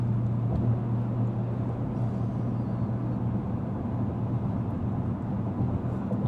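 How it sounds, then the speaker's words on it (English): Inside the cabin of a 2025 Dodge Durango Hellcat at speed, a steady low rumble of tire and road noise is heard, with a faint layer of wind hiss and no talking. "Getting some tire noise, a little bit of road noise, small bit of wind noise."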